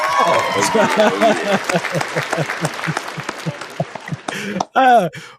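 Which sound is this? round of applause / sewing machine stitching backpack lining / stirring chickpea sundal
round of applause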